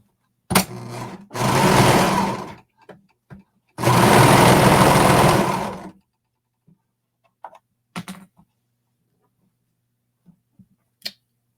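Two loud, close bursts of a sewing machine stitching around matched raw fabric edges at a 3/8-inch seam allowance, followed by quiet handling clicks and taps.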